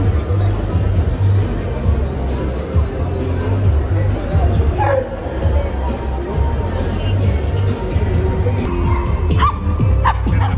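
American Bully dogs at a pet parade in Mexico bark and yip amid a murmuring crowd, with short sharp barks and whimpers scattered through dense chatter and babble nearby.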